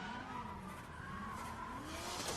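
A car drifts at a Red Bull Car Park Drift event in Oman, its engine droning and its tires skidding and squealing continuously at a moderate distance for a couple of seconds.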